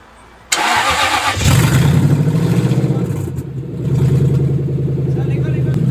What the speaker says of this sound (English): Give it just a little rev, John.